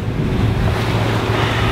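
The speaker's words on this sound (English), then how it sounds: "The ocean is rough." Rough ocean waves and wind buffet a sailboat on the passage from New Caledonia to Australia, a steady loud wash of surf and rushing wind noise with no voices.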